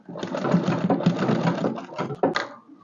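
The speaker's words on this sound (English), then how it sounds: "I'm arranging it down as I sew." Domestic sewing machine stitching the sleeve onto a frock dress, a loud close rapid needle whir running in bursts with short pauses and a sharp click near the end.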